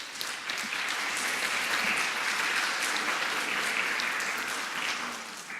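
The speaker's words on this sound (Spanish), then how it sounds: "recibámoslo con un aplauso al doctor Vitale." Sustained audience applause welcoming a lecturer at an academic conference on liberalism and cultural rights, a dense, even wash of many hands clapping steadily for several seconds before tapering slightly at the end, with no talk over it.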